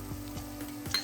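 Spoonfuls of kanda lasun masala go into a sizzling pan of misal, with soft scraping strokes over a faint hiss, quiet and close with no talking.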